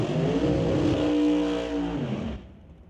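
A dragster at a drag race roars through a loud, revving engine note that holds and then shifts in pitch. The sound fades and cuts off abruptly near the end, with no voices.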